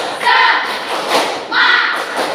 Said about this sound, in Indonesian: Biar lebih semangat kita tepuk-tepuk dulu. Siap tepuk? Siap. Tepuk semangat.